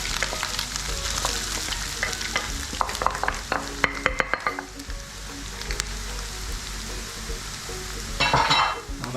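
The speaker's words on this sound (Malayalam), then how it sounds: "വെളിച്ചെണ്ണ വെച്ച് കൊടുത്ത് കുറച്ച് തേങ്ങ ഒന്ന് വറക്കാം" Grated coconut sizzles and fries in coconut oil in a frying pan, with a steady crackle throughout and clinking stirring scrapes in the middle and again near the end.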